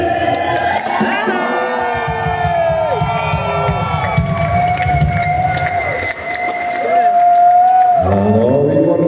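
Large arena crowd at a Bratislava concert cheering, shouting and clapping to welcome a band, a loud sustained roar that swells near the end, with an amplified voice over it.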